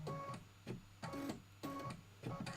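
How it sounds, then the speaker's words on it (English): An embroidery machine doing heavy quilting stitching: rhythmic mechanical bursts repeating roughly every half second or so, fairly quiet, with no speech. "It is heavy stitching."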